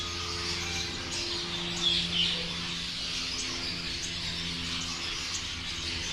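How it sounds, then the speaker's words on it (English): Small finches and quail in farm cages give scattered high chirps and tweets over a steady background hum, a couple of brighter calls standing out briefly, no voices. "Some more finch birds. Different finch. And quail along the bottom."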